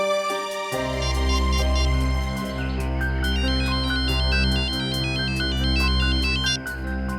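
A phone ringtone plays loud and steady for several seconds, a repeating electronic melody with bright chiming notes over a sustained tone, with no voices over it.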